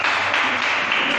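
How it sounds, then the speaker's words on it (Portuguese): A church congregation breaks into applause, a brief burst of dense, continuous clapping heard close and fairly loud. "dando uma salva de palmas para Jesus"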